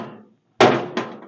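Two sharp metallic hammer blows from a ball peen hammer striking the old sheet metal of a 1946 International truck during bodywork, loud and close with ringing decay, the second following about a third of a second after the first.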